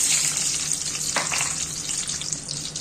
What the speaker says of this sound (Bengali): প্রথমে ডিমগুলোকে একটুখানি হালকা করে ভেজে নেব।